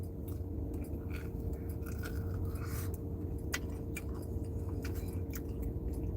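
Crunchy fried mushrooms in an Alfredo dish being chewed close up, a steady moist crunching and munching under a constant low background hum.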